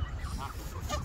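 Geese on the outskirts of Chicago, Illinois, giving a short burst of nasal honks, close by over a noisy outdoor background.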